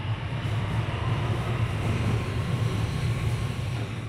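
A Beijing subway train at an empty platform: a steady, loud low rumble and hum of the carriages running, with no voices around.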